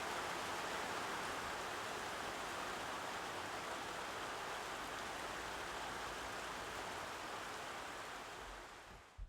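Steady, dense rain with wind hisses over a surface in the woods with a constant roar, close and even throughout, fading slightly at the very end.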